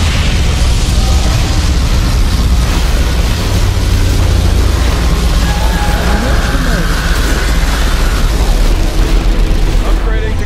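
A particle cannon fires in the strategy game Command & Conquer Generals, producing a loud, continuous roaring blast with sustained rumbling and crackling mixed with other battle noise throughout.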